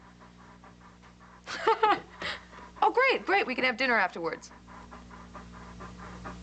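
A dog pants in quick, rhythmic bursts close to the microphone, with short pauses between runs, while a person speaks over part of it.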